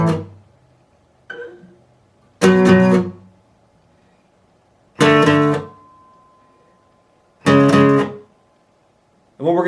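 An electric or acoustic guitar plays the interlude of a song slowly: four loud strummed chords ring out at even intervals about two and a half seconds apart, with a few softer plucks between them and no talking.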